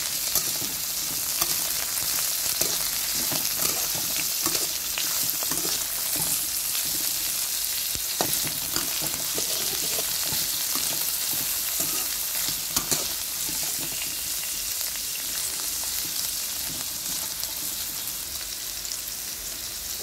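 Three green chillies frying lightly in oil in a pan while vegetable Maggi is prepared, giving a steady dense sizzle with occasional stirring clicks, alone and close for the whole stretch.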